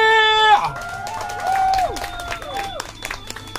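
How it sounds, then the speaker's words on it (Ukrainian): An outdoor concert audience in Pyrohovo applauds, cheers and whistles for the band, breaking in loudly after a held musical note and continuing in a lively crowd wash. "ваші аплодисменти!"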